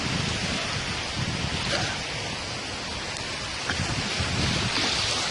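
Ocean water on the Jeju Island shore in South Korea, a continuous hiss of surf and washing water with soft low swells, steady and close.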